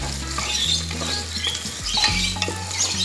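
Chicken pieces fry in a pan for a vegetable khichuri while a spoon stirs them, giving a continuous close sizzle broken by scraping strokes against the pan, with no voices.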